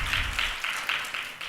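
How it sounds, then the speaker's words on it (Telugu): A church congregation claps steadily in praise of God during a sermon about Christ's resurrection, a dense, even wash of many hands sustained for the whole moment with no break. "చప్పట్లు కొట్టి దేవుని స్తుతించండి."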